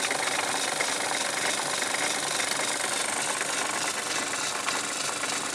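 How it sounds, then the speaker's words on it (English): Workshop motor running steadily during work on a loco chimney, giving a constant broadband whirr with slight rattling, close and even throughout, with no talking. "I'll put the motor on"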